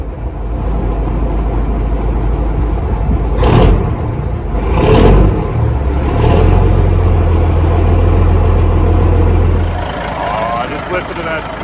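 Diesel engine of an old cabover semi truck, a 3406, running at an auction with a steady low clatter and a few revs rising and falling, heard up close under the chatter of nearby voices.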